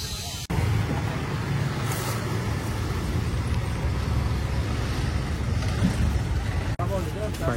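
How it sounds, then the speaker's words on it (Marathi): Road traffic jam outside, a dense steady rumble of cars and buses with engine drone, heard under nearby talking, starting abruptly after a short gap. "फुल सगळा जाम झाले आणि रोडवर प्लस ट्रॅफिक"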